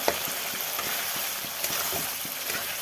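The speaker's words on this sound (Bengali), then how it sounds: "আলু দিয়ে মশলা দিয়ে ভালো করে কষে নিয়েছি। ভাজা হয়ে গেছে মশলা, আলুও সেদ্ধ হয়ে গেছে।" Potatoes and spices fry in a pan, giving a quiet, steady sizzle broken by soft, regular stirring taps and clicks.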